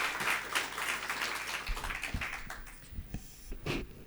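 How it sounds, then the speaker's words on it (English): Soft, fairly distant audience applause at an awards dinner, a dense patter of clapping that thins out into scattered claps toward the end. "may I ask for another round of applause for both of our awardees"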